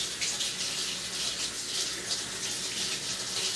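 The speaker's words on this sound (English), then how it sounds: "Just rinse them off in the sink." Tap water runs steadily into a kitchen sink while onions are rinsed under it, a close, even hiss of flowing water with no talk over it.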